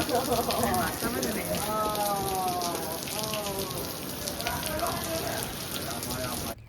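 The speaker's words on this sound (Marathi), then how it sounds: "आज पहिला दिवस आहे की ज्या दिवशी पाऊस येतो आहे" Steady rain patters throughout on Nusa Penida island near Bali, with a voice speaking underneath and faint tonal sounds drifting in and out.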